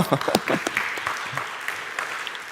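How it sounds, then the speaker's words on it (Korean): A church audience claps together in a short burst of scattered, lively applause that tapers off after a couple of seconds. "박수 한 번 칠까요?"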